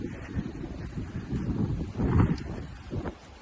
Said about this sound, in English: it is quite a windy day